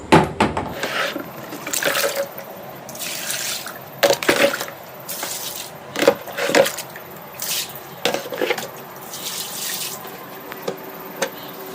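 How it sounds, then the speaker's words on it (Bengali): Water is poured out in front of a house in repeated splashing bursts, each swelling and fading in an uneven rhythm, close and fairly loud. "তার আগে একটু ঘরের সামনে জল ঢেলে নিই"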